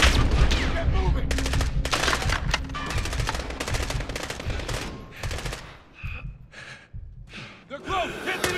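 Rapid bursts of machine gun fire in Call of Duty: Modern Warfare, loud and close, several long sustained volleys broken by short pauses, with shouted voices and gasps among them.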